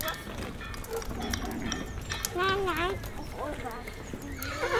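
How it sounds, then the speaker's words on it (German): A horse neighs and whinnies loudly and close, with a drawn-out rising and falling call and hoof clip-clop beneath, set in a busy farm-like ambience with a fire, people, birds, a dog, a horn and hammering. "Pferd."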